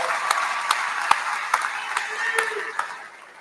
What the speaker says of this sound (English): so let's give him a big round of applause as well.